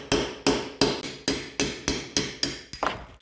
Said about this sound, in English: take a punch, and we're going to hammer out the hex part